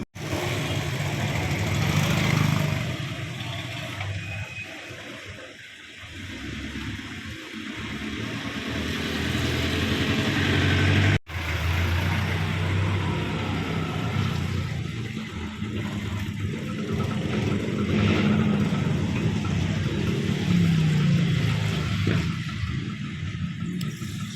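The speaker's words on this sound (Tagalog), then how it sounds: "Hindi na gumagalaw yung mga sasakyan kasi sobrang traffic talaga dito sa amin." Heavy street traffic at a standstill, with car engines idling in a continuous low rumble and steady hum, some mid-range noise rising and falling, no voices.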